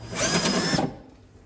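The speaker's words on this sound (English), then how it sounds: "With drilling the inside of the door, this sheet metal is fairly thin" A power drill whines steadily for under a second, a high-pitched bite into the thin inner sheet metal of a van door, then cuts off, leaving quiet room tone.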